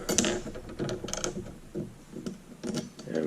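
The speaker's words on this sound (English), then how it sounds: "And then you tighten this nut down." A nut is tightened down on a polycarbonate wiper being installed on a SuperATV Flip in 34-degree cold, heard as a close, quiet series of irregular ratcheting clicks and small metallic fumbling taps.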